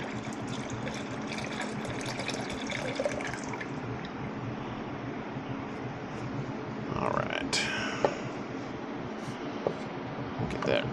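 Coolant drains out of a motorcycle in a steady, continuous liquid pour and trickle, close by, with a few small clinks near the end.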